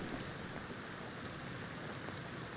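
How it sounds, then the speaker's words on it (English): Steady rain falls in the jungle survival game Green Hell, a soft, even wash of patter with faint scattered drops, continuous and unbroken, no voices. "It's raining. Of course it's raining."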